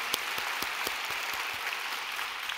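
A congregation at an evening church prayer meeting claps together in a steady, even rhythm over a bed of general applause, with no voices above it.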